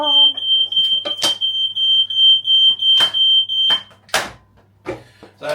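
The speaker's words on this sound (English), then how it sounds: "Oh, now he's set the alarm off. Smoke alarm." A smoke alarm shrills continuously at a steady high pitch after a toasted sandwich burns on an induction cooker in a home kitchen, with people talking loudly over it and clattering sounds nearby.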